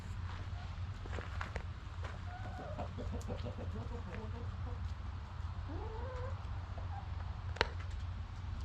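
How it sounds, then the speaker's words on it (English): Chickens cluck and call in an outdoor setting, with a rooster-like crow rising among them over a steady low hum. "wanted to get a little video earlier of the chickens in the garden there"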